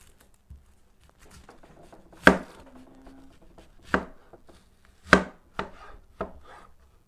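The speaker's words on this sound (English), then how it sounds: "cut up about 5 or 6 cloves of garlic" Several sharp knife chops on a cutting board as garlic cloves are cut up, spaced irregularly with a few louder strikes and softer taps in between, close and otherwise quiet.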